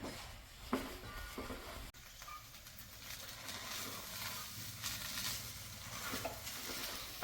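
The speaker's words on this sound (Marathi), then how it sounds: "हे सारखं असं हलवत राहायचं म्हणजे पुरण खाली लागत नाही." Thick jaggery and lentil puran filling stirred continuously in a pan with a ladle for puran poli, a steady scraping and sizzling hiss throughout, close and moderately loud, with no talking.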